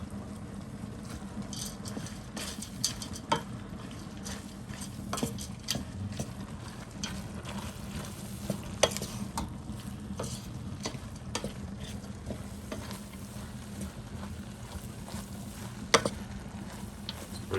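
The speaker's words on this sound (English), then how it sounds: "Stir." Food is stirred in a pot over heat, a continuous soft sizzle and bubbling with frequent light scrapes and clicks of a spoon against the pot, steady and close.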